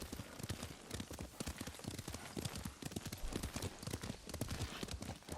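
Rapid, steady hoofbeats of a galloping horse in the video game Ghost of Tsushima, close and continuous with a driving rhythm throughout.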